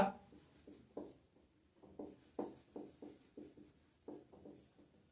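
Chalk or marker strokes on a classroom board during a maths lesson, a series of short scratchy taps and swipes in an irregular rhythm, close and quiet with no speech.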